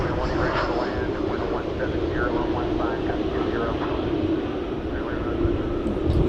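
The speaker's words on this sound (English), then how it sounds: "There you see a Volaris flight, Flight 817 to Querétaro, Mexico, on Airbus A320 Neo." A Volaris Airbus A320neo jet airliner at an airport at night gives a steady, continuous engine roar close by, with a voice talking over it throughout.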